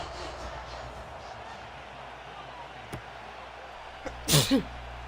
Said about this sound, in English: Getting the sneezes today.